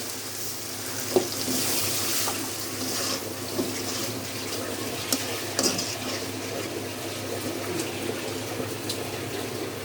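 Water poured into a pan of browned, frying garlic sets off a loud, steady sizzle and watery hiss that runs throughout, with a few sharp clicks of utensils against the pan and no talking.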